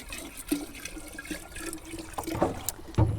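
Filtered tap water pours and splashes into a 10-litre bucket, a steady gurgling stream with a few clunks near the end.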